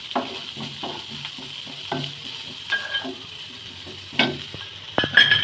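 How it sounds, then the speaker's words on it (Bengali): Whole spices frying in a pan for a chicken garlic methi curry, a steady close sizzle broken by occasional scrapes and stirs, alone with no talk. "এটি জাস্ট একটুখানি ভেজে নেব।"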